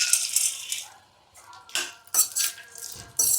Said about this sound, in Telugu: బాదాం వేస్తున్నాను.